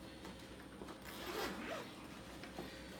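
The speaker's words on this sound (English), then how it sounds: "I'm going to fight this zipper." A zipper pulled along a ThinkGeek rolltop backpack, a close scratchy zip sweeping through in one slightly labored pass over faint background hiss, with no talking.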